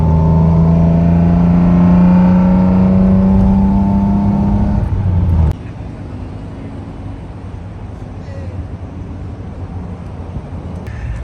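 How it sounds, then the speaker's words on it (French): A vintage BMW car engine runs close by, loud and rumbling with a rising, revving tone. Halfway through it cuts abruptly to a lower, steadier background noise. "Ça fait vraiment un son de caisse vintage."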